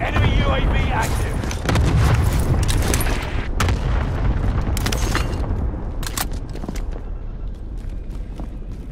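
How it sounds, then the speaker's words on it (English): Cluster strike airstrike in Call of Duty: Modern Warfare, a dense, sustained barrage of overlapping booms and blasts rolling continuously at high loudness, with game voice lines mixed in. "Here comes the airstrike. Got your request. Cluster strike is active."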